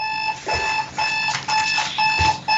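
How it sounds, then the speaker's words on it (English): A clock alarm rings in loud, piercing electronic bursts, repeating in a steady on-off rhythm about twice a second, shrill and close, with no one talking over it. "Sounds like a fire alarm."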